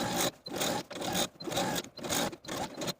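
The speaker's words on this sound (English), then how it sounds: "Now we're going to take this back to the sewing machine and edge stitch close to this inside edge of the bias tape" Sewing machine edge stitching bias tape onto a cotton apron, running in quick rhythmic bursts of stitching separated by brief pauses, close and clear with no talking.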